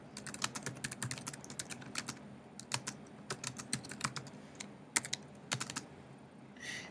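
Fingers type steadily on a computer keyboard while an email invitation is written, giving irregular bursts of close, crisp key clicks with short pauses between words and no voices.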